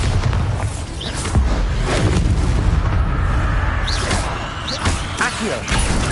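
Repeated spell blasts from Bombarda and Confringo in the video game Hogwarts Legacy, loud booming bursts over a dense continuous din of effects, recurring every second or so.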